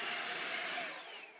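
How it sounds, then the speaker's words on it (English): A vacuum cleaner sucking up dirt from a radio-controlled car during a driveshaft repair, a close steady whine and hiss that fades and drops in pitch as it winds down. "So there's all the dirt. I'll go ahead and vacuum that up."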